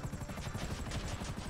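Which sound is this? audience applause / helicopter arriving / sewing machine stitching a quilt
helicopter arriving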